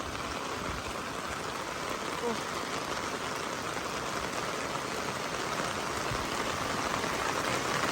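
Heavy storm rain pours down in a dense, even hiss that stays loud and steady from start to finish, with faint voices talking beneath it.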